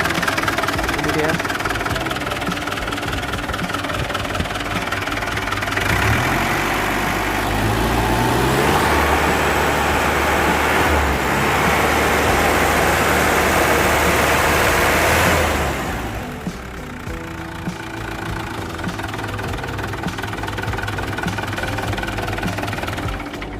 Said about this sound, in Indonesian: kita akan coba mendengarkan suara mesin dari mobil ini